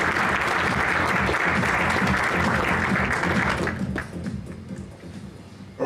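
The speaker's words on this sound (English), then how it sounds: "Ladies and gentlemen, a round of applause for them." Audience applause at an awards ceremony, a dense, steady clapping from a large crowd that carries loudly for about four seconds and then thins into scattered claps before tailing off.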